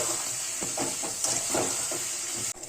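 Potatoes with turmeric stirred in a hot frying pan, a steady close sizzling hiss with several soft scraping strokes of the spoon, then an abrupt drop near the end.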